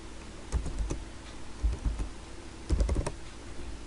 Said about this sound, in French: J'écris bonjour Mwana Tata.